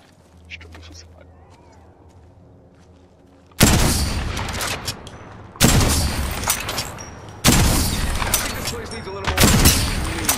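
Bursts of gunfire in a combat video game, several loud rapid-fire volleys breaking in after a quiet stretch, with short pauses between them.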